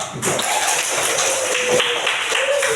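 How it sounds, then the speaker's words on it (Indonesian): Schoolchildren in a classroom clap their hands together in a rhythmic group clap, a quick run of sharp taps close by, moderately loud with no talking over it. "Tepuk tangan dulu."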